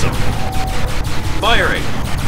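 Gunfire from a Command & Conquer: Kane's Wrath real-time strategy battle, a dense rattling fusillade running throughout, with a voice-like game unit chirp partway through.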